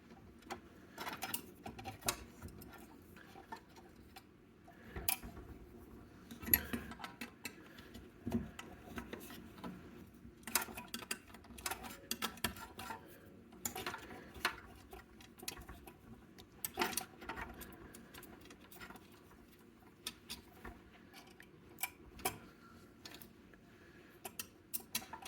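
Wrench undoing the bolt on a Balboa BP501 spa heater element, giving irregular metallic clicks, ratcheting ticks and small knocks close by at low level, with no talking.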